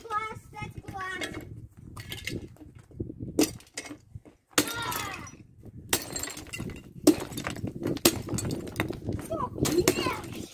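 Glass plates smashing at a plate-smashing party, with several loud crashes and shattering bursts spread through the clip, mixed with excited voices talking and shouting nearby.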